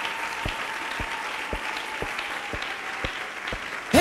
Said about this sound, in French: Que cette église acclame Jésus très fort.